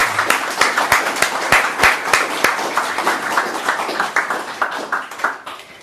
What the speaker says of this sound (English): please, can we have another round of applause for all our wonderful writers?